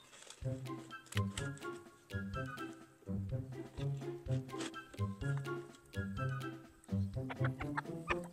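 Several chickens in a chicken run cluck and squawk in overlapping bursts, fairly close, with sharper calls cutting in now and then.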